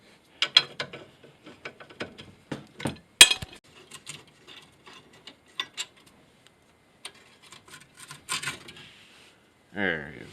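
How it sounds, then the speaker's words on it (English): A ratchet loosening 17mm brake assembly bolts on a Hyundai Accent front wheel, with crisp clicking runs and metallic taps at close range, bursts separated by short pauses, and a brief voice at the end. "next we'll need to remove the rest of the brake assembly here. These two 17mm-ish bolts here"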